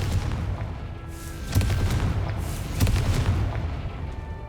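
Two deep, booming blasts from the Confringo fire spell in the Hogwarts Legacy video game, each followed by a rumbling tail over low, steady background game ambience.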